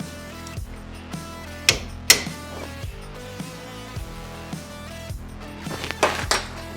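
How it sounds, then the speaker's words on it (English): Chisel hammered to free a rear axle seal on a 2004 Suburban, a string of sharp metallic strikes spaced out unevenly and ringing over workshop background noise. "get that chisel in there. We're gonna start releasing the outer shoulder of that seal."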